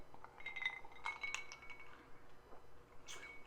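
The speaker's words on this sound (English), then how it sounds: "Put it on ice cube." Ice cubes clink against a glass of whiskey in a few faint, bright, scattered taps with soft rattling between them, close by and quiet.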